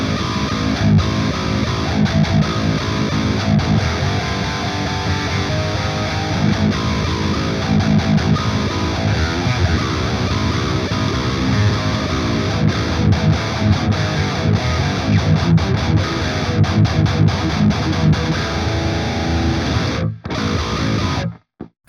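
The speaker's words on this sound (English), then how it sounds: "I'm using Amp Modeler" Thick, heavily distorted electric guitar chugging and ringing through a modeled high-gain metal amp, loud and continuous, ending with a few muted stops.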